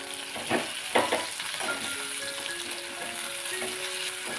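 A mixture being stirred with crushed peanut powder in a pan of oil, a steady soft sizzle with a few scraping strokes of the spoon near the start, close and moderately loud.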